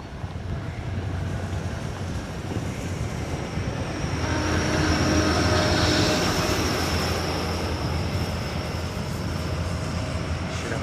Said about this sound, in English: A400 over the top of me